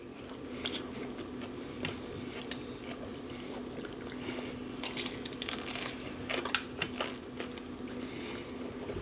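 Crispy onion chips being bitten and chewed up close, with repeated crunchy bites and chewing that grow busier toward the end, fairly quiet, with no talking.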